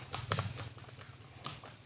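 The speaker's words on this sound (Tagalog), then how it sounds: "Ayan, yung kabayo ni boss." A cargo horse hauling a load of coconuts clip-clops on the ground in a steady quiet rhythm, with faint voices in the background.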